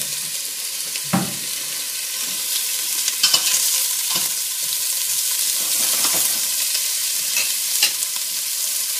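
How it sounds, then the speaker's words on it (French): Sausages sear in olive oil in a pan, a continuous bright sizzle with occasional sharper pops and a few stirring or shifting sounds, loud and close. "Et donc on va saisir nos saucisses. On va les sauter. On va passer de l'huile d'olive."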